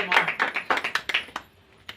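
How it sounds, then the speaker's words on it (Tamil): Hand clapping at a Christmas church service, a run of about ten sharp, fairly close claps in a quick uneven rhythm that trail off, with one last isolated clap near the end. "கரத்தை கைகளை தட்டுனா"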